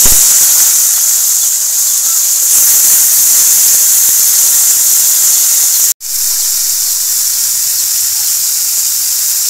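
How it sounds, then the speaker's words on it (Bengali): Cauliflower pieces fry in hot oil with a strong, continuous hiss and sizzle, close and loud, briefly dropping out once before resuming steadily. "তো তেলটা গরম হয়ে গেছে এবার এটা আমি কপিগুলো দিয়ে দেবো। কপিগুলো ভালো করে ভেজে নেব।"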